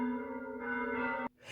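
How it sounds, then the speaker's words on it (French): Morning church bells toll with a rich, sustained metallic ring, heard fairly faint and steady before cutting off abruptly. "je sais qu'elles durent longtemps, mes petites cloches, là, le matin"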